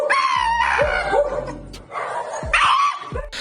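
A frightened camel getting an injection lets out strange, strained cries and groans in repeated bursts, loud and close, with sharp rising and falling calls that come and go.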